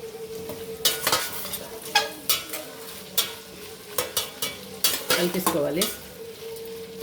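Vegetable biryani rice being stirred through vegetables in a pot, a spoon scraping and clattering against metal in repeated strokes over a light, steady sizzle, close up with no talking.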